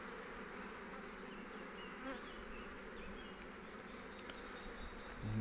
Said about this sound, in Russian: Пчелы что-то не заходят они.